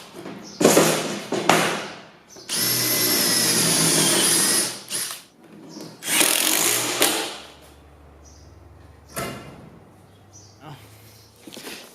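Cordless drill driving screws into timber during a battery rack build, heard in several separate bursts of high whirring, some short and one sustained for a couple of seconds, with quieter gaps between.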